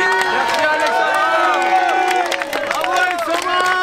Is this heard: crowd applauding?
yes